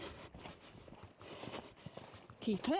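Rhythmic clip-clop of a horse cantering in a riding session, hoofbeats close and repeating under a rider's brief spoken encouragement, with a soft horse vocal near the end.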